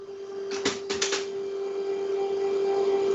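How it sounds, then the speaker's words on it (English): A printer runs during an online conference, giving a few quick mechanical clatters early on, then a steady whirring hum with a constant tonal whine throughout. "A bit of noise there from my printer."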